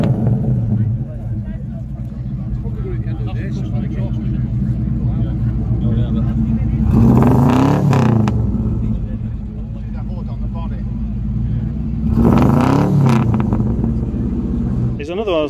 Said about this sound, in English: I'm going to look for this naughty sounding car over here.